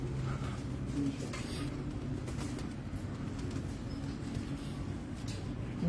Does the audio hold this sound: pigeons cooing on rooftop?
yes